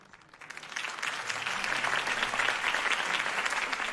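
Crowd applause swells after Harvey Dent's campaign speech in Batman: The Telltale Series, a dense, steady wash of many hands clapping that builds within the first half second and holds loud to the end.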